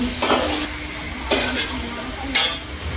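Chicken kosha frying and being stirred in a pan at home, giving a steady close sizzle with three sharp scraping stirs spaced about a second apart.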